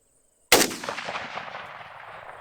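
A single rifle shot of Freedom Munitions 7.62x39 150-grain ammunition cracks sharply after a silent start, its loud report decaying into a long echoing tail across an outdoor range.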